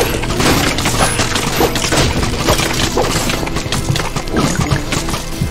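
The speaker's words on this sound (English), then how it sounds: "I'll hit him with the rocket" Rocket fired at a zombie in Minecraft Dungeons, heard as a loud, dense run of blasts and crashing impacts that fills the whole stretch with no pauses.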